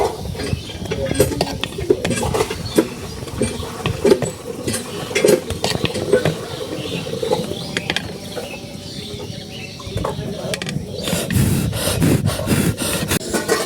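Milk coming up to a boil in a pot in a village kitchen, bubbling and crackling steadily up close, with scattered clicks and spoon-like scrapes and no talking.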